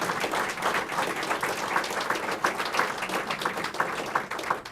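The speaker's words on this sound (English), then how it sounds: "let's give him one more round of applause for this promotion" Attendees at a police department promotion ceremony give a round of applause: many hands clapping at once, a sustained mid-distance patter with distinct individual claps, steady throughout.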